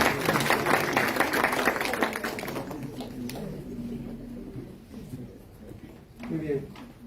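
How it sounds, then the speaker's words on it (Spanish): Applause from the audience at an oratory contest in a courthouse hall, a dense burst of clapping that fades over a few seconds, with a voice speaking over it. "Fuertes aplausos para él, por favor."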